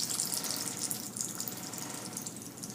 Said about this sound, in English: As this finishes off bubbling, producing more carbon dioxide gas